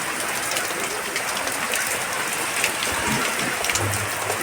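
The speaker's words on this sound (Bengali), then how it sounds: "এখন একটু বৃষ্টি সবে শুরু হয়েছে" Rain just starting to fall in the evening in a rural home, a steady broadband hiss of drops on surfaces that stays even and moderately close throughout, with no voices.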